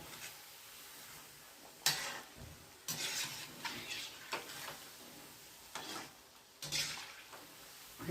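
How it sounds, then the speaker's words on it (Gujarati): Shakarpara deep-frying in hot oil, a soft steady sizzle broken by a few louder scrapes and stirring clatters of a slotted spoon turning the pieces, close and fairly quiet, no talking. "બરાબર આપણે તરી લઈએ"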